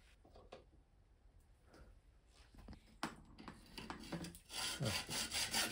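Hand saw cutting 15 mm off the steerer tube of an electric mountain bike fork, a quiet scraping that builds into louder, faster rasping strokes toward the end, with no talking.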